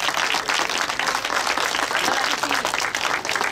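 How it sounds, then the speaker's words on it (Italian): A crowd gathered for an Easter celebration claps vigorously in continuous, dense applause that holds steady for the whole stretch, with a few voices mixed in. "Facciamo un applauso a Gesù."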